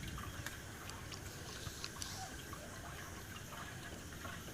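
Peanut milk pours steadily from a container into a vessel in a kitchen, a soft continuous liquid splash and trickle at moderate closeness, with no talking.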